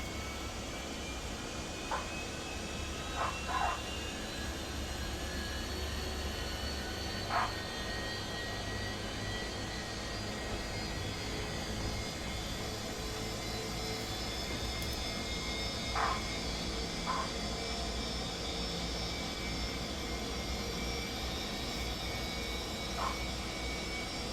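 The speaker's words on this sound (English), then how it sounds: "clear to start the engines, and we'll start engines 2 and 1 in that sequence." Airbus A319 jet engines spool up in a flight simulator cockpit: a steady, loud turbine roar with a rising whine, punctuated by occasional brief clicks, continuing without speech.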